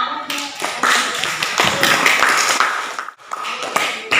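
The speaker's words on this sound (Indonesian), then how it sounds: "Ya, beri aplaus untuk kita semuanya" A classroom of students applauding together, a brisk, close burst of clapping that briefly dips before resuming, with a teacher's voice over it.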